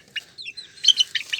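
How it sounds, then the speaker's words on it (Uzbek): A young chick clucks while being picked up for weighing, giving several short bright peeps and clucks in quick irregular succession, close and clear over a quiet background. "Mana masalan, shu jo'jamizni olamiz."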